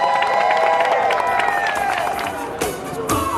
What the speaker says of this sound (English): So let's give a round of applause to my man Posse, our great community hero.